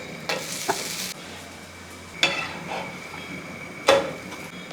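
Porotta fries in a pan with a soft, continuous sizzle, broken by a few sharp scraping bursts as the flatbread is stirred and turned, close and fairly quiet.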